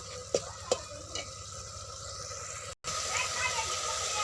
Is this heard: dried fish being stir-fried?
yes